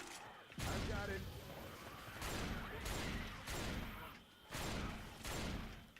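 Repeated bursts of shotgun fire in the zombie shooter Left 4 Dead 2, loud blasts spaced about a second apart, with game noise in between.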